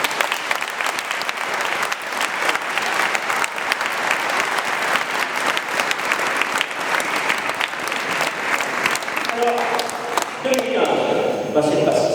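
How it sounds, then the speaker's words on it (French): Audience at a New Year's wishes ceremony in a town hall in Grabels breaks into sustained applause, a loud dense crowd of clapping that carries on for several seconds before a voice begins speaking near the end. "Je vous demande de les applaudir."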